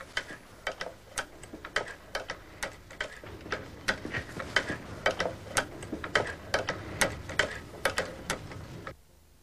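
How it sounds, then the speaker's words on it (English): Cobbler's leather-sewing machine running on its cams, giving quick sharp mechanical clicks and ticks in an irregular but steady rhythm, close and fairly quiet, stopping abruptly at the end with no voices. "This machine's actually a cobbler's machine used for sewing leather."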